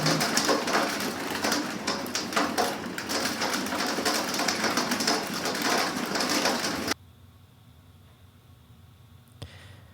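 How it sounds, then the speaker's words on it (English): Hail pelting down in an outdoor field recording, a dense, loud, steady patter of tiny impacts that cuts off abruptly after about seven seconds, leaving near silence with a faint knock near the end. "that sound to me, that hail, that's like any atmospheric sound"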